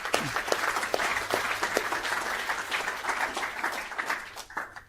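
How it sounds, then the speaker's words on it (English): Quiet round of applause from a small audience after a town planning talk on subdivisions: scattered, distinct hand claps forming a modest, uneven patter that fades toward the end. "Round of applause, mate."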